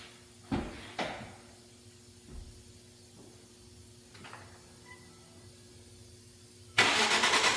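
Car engine cranked and started after a repair of seized exhaust manifold stud bolts, a few clunks and knocks of tools beforehand, then the engine catching and settling into a loud steady idle at the end.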